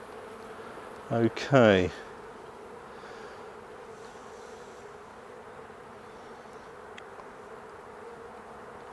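A honeybee colony hums low and steady throughout a hive inspection, with a brief louder noise and a short spoken word near the start.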